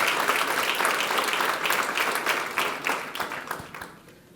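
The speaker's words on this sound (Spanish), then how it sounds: "applause to the King of Kings." Strong applause from a church congregation saluting God during a sermon, dense steady clapping that fades gradually toward the end, with no talk over it.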